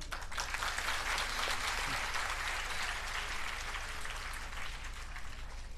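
An audience claps together at an annual school function, producing a sustained burst of steady applause that fills the room.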